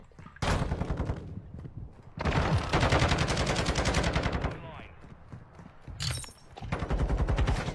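Bursts of rapid automatic gunfire in a Call of Duty match, loud and close, come in several sustained volleys separated by short pauses, with a player's voice occasionally heard between them.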